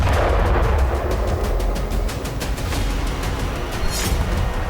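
Bombardment in southern Lebanon that brought down buildings: a heavy, continuous low rumble of explosions, with rapid cracking blasts layered on top and no voices.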